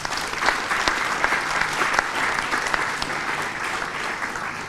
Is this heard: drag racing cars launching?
no